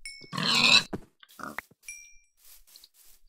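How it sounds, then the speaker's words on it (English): Pigs in the blocky survival game Minecraft during an ultra hardcore match, a loud burst of grunting followed by a few quieter, scattered snorts and game noises, no talking. "These pigs are light and quick."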